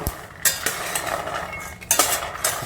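Peanuts being stirred in a pan over a low flame while making peanut candy, a spoon or spatula scraping and clinking against the metal in irregular strokes, close and moderately quiet, with no talking.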